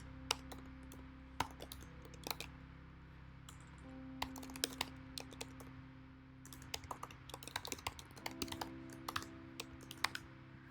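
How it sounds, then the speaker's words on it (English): A computer keyboard is typed on in irregular bursts of sharp clicks over a low steady hum, with short pauses between runs of keystrokes and no voices. "Keyboard."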